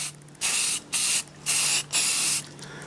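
Spray painting an antique Hallicrafters R-46 speaker cabinet during restoration: four short bursts of hissing aerosol spray, close and fairly loud, separated by brief pauses.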